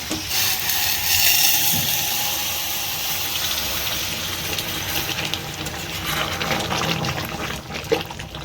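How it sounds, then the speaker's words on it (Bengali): Water is poured into a pan of cooked chicken, a continuous close gushing splash that is loudest at the start and then settles into a steady pour. "এবার আমি জল ঢেলে দিচ্ছি।"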